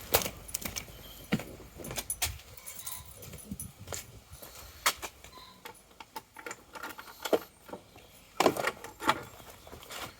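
A bunch of keys jangles and clinks in irregular bursts while being searched for during a brake light repair on a Lifan King motorbike, close and fairly loud, with no talk.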